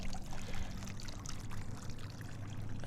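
A little garden water feature in a sunny seating area trickles softly and continuously, a faint steady splash with no talking.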